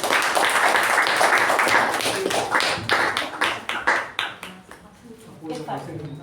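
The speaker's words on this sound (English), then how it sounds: "Let's give him a round of applause for that." A round of applause in a meeting, brisk clapping from a group that fills the first few seconds and then thins into scattered individual claps, with a voice speaking as it fades.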